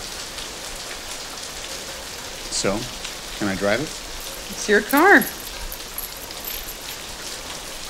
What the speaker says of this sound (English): rain that was recorded while the actors were talking